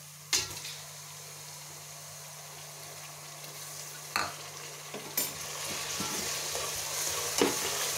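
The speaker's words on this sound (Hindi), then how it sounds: "तो आप ये जो मसाला होता है इसको भूनने का, इसका ख्याल रखा करें।" Masala of garlic, ginger and tomato frying in a pot for daal mash, a steady soft sizzle with occasional spoon scrapes and clinks as it is stirred, close and quiet.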